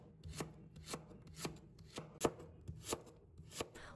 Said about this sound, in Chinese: 切好以后，再改刀把它切成菱形块